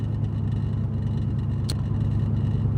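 Steady low road and engine rumble from inside a moving car, constant and even with no change in pace.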